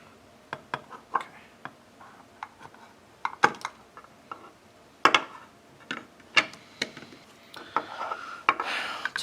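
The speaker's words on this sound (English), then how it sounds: "then we're gonna trim the plastic that's melted around" A tool trims melted plastic from a children's toy being switch adapted, giving close, sharp scraping ticks and short rasps at irregular intervals, with a longer rubbing passage near the end and no talk.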